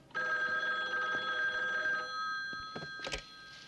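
An office telephone rings with a bright electronic trill, one sustained ring that cuts off, followed by a couple of faint clicks and handling noises.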